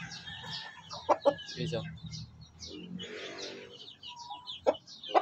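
Aseel chickens, about six months old, cluck in short bursts close by, mixed with a few brief spoken words and light background noise.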